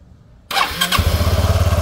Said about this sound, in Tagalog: papandarin natin yung motor